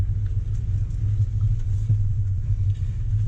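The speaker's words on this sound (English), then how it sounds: "we're gonna put the transmission into sport and keep it in first gear as we creep along" A Range Rover Velar creeps along an off-road trail in first gear with the transmission in sport mode, giving a low, steady engine rumble and drone close by, with no talking over it.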